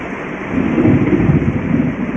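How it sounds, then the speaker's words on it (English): Rain falls heavily outdoors in a thick, low rumbling hiss that swells and stays loud and close, with a thunder-like roll underneath and no voices. "Ooh, some rain here."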